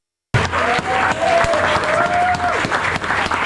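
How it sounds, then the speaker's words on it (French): A room full of people applauds a person named Stéphane who is present in the hall, dense steady clapping starting abruptly and holding loud throughout, with a few cheering voices faintly audible in the mix. "Vous pouvez l'applaudir juste ici"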